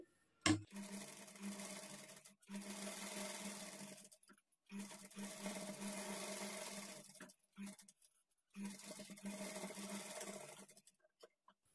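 A sewing machine stitches the edge of a blouse waistband in three long runs, each a steady whirring burst separated by short pauses, close and clear with no talking.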